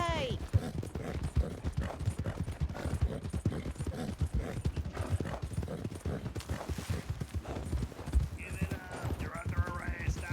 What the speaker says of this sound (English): Stop the horses.